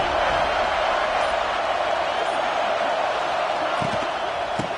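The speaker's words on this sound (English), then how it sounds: "The Tide crowd roaring noise down onto Saban Field on 3rd down" Steady stadium roar from an Alabama Crimson Tide home crowd at Saban Field on third down in a college football video game, a dense continuous wash of noise holding loud from start to finish, with a few brief thumps near the end.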